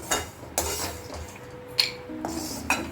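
Roasted chickpeas tipped from a pan into a bowl, with a few sharp metallic clinks and scrapes of a spoon against cookware, close and intermittent, spaced through the moment with quiet rustling between them.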